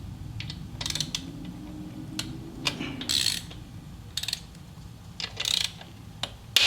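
A wrench breaking loose the primary cover fasteners on a Harley-Davidson Touring motorcycle, heard as a series of close ratcheting clicks and metallic clunks in irregular bursts over a low mechanical background.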